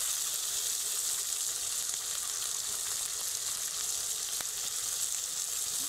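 Spice paste fries in oil, a continuous bright sizzle at moderate level with faint occasional stirring ticks and no voices.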